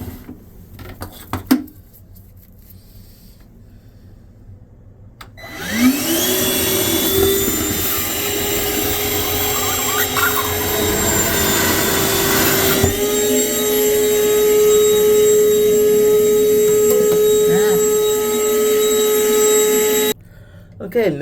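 Small Rarity wet/dry vac switching on after a few seconds of quiet handling noises, then running as a loud, steady whine with a brief dip in tone partway through before cutting off near the end, used during a toilet replacement.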